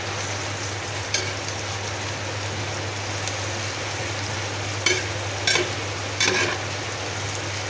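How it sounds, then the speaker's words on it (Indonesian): Fern shoots and jengkol stir-fry as a balado, a steady close sizzle over a low electrical hum, punctuated by a few brief spatula scrapes toward the end, without speech. "Kita lanjutkan dengan sayur tumis balado pakis dan jengkol tadi"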